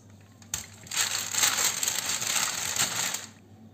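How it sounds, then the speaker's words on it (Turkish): Dough rolled with a rolling pin between two sheets of baking paper, a continuous crinkling, crackling rustle of paper that builds, holds steady for about two seconds and fades, close and clear with no talk. "Şimdi üstünü açıyorum ve 2 tane yağlı kağıt arasında merdane ile açacağım."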